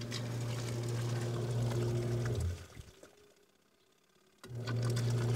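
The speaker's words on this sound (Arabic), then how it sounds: "نستمر هنا لنشغل الغسالة طبعا الغسالة ناخذ شوية صابون هنا" A solar-powered washing machine hums and churns water steadily as a wash begins, cuts out into near silence partway through, then starts up again.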